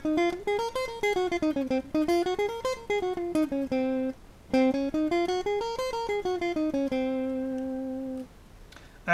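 A Locrian-mode scale played as clean, pure melodic notes rising and falling in steady steps, with a few held tones near the end, alone and moderately quiet.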